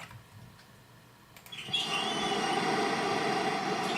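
Minecraft rain weather, switched on in a desert biome: steady broadband hiss and patter that swells in abruptly partway through and then holds at an even, moderately loud level with no talking.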